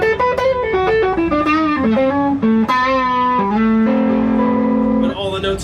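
An electric guitar plays through an EarthQuaker Devices Plumes overdrive pedal set for light grit: loud, close picked notes and ringing chords with a long sustained chord near the end.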